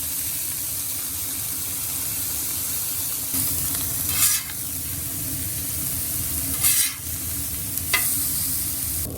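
O'Brien potatoes with peppers and onions fry on a Camp Chef cooktop, giving a steady close sizzle broken by a few brief scraping bursts as the food is stirred.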